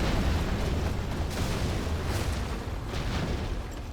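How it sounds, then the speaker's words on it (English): Carpet bomb support power raining explosions on buildings in a real-time strategy game, a dense continuous rumble of overlapping blasts with bursts of crackle, loud and sustained throughout. "Carpet bomb comes in."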